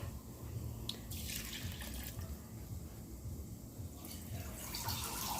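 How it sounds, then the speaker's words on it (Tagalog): Water pours steadily in a continuous splashing stream into a rice cooker, with a couple of brief clinks along the way. "Nalagyan natin ng tubig"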